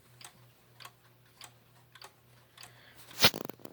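A Waltham 31-day chiming wall clock with a Korean movement ticks at a steady, evenly spaced beat, each tick crisp and close, ending in a sharper, louder mechanical clack.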